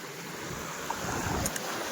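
Calm sea waves at Chowpatty beach wash softly and steadily, mixed with gusty wind rumble on the microphone and a couple of faint distant chirps.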